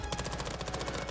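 Machine gun fire in Warzone 2, a rapid, evenly spaced burst of close, loud shots filling the whole moment.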